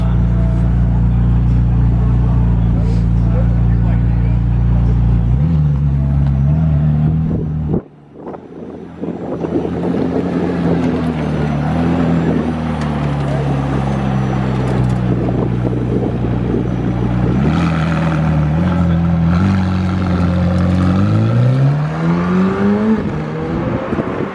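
Porsche Carrera GT pulling away from a car show, its engine droning loud and close with a brief cut-out, then revving and shifting in rising sweeps as it leaves, with wind buffeting the microphone.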